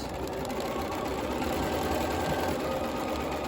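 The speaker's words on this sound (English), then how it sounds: "So we'll get that and start sewing around the edge." A domestic sewing machine runs a straight stitch along the edge of a pleated cloth face mask, a steady close whirring hum with fast mechanical ticking throughout, no voice.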